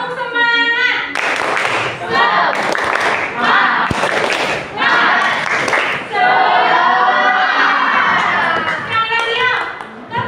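Classroom of vocational school students doing a tepuk semangat spirit-clap chant, rhythmic bursts of group clapping alternating with loud children's voices shouting and chanting together, close and energetic.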